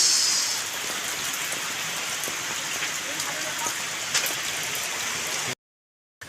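Steady heavy rain from Typhoon Enteng on Burias Island pours down in a dense wash of noise, with occasional louder drops and splashes, then cuts out abruptly near the end.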